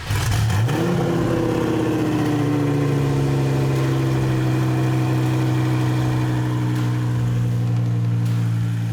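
A 1500 HP turbocharged Lamborghini engine without wheels fitted fires up in a performance shop, catching within the first second and settling into a loud, steady, throaty idle that fills the space for the rest of the clip.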